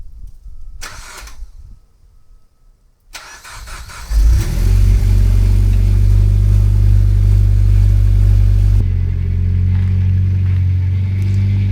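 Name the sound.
Kawasaki Ninja 400 motorcycle engine starting and running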